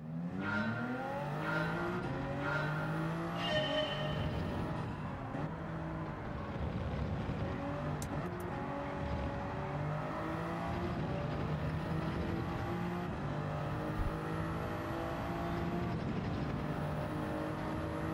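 Race car engines in the Gran Turismo 7 video game whine and rise and fall in pitch through constant shifting and acceleration, with a few tire squeals, loud and continuous for the whole stretch.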